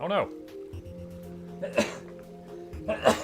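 Several sharp, explosive sneeze-like bursts break out a few times over a few seconds, close and abrupt, with a person speaking briefly among them.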